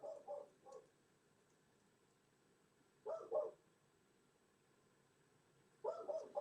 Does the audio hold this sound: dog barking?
yes